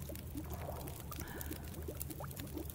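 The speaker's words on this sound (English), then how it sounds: "Alright, there we got some water." Water is collected and poured in the survival game The Long Dark, a steady trickling, bubbling pour that runs for a few seconds at moderate volume with no talking.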